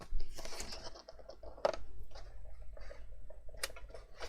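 A piece of card is cut out with a run of quiet, close snips and ticks, then a short pause and a few more cuts.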